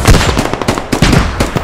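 Rapid bursts of machine gun fire in the video game Squad lay down suppressing fire, a dense, loud string of cracking shots close by with brief gaps between bursts.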